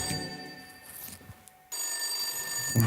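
A telephone rings in a video game, with a sustained electronic ring tone that cuts off midway and then resumes loudly, no talk over it.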